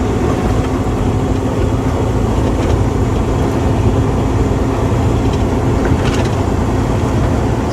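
Interior of an RV puller truck driving over a rough section of road, a loud continuous rumble and roar with rattling and bumping throughout, no talking.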